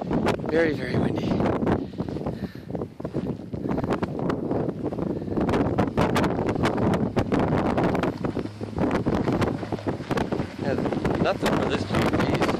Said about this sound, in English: The only thing is windy out here. Very, very windy.